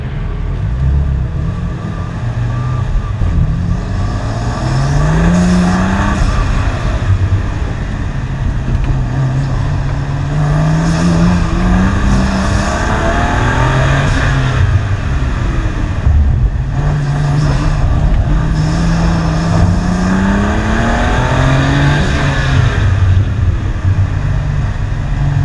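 BMW M3 engine revving hard on a race track, loud and close throughout, with rising and falling pitch sweeps as it accelerates through gears and lifts off, no talk.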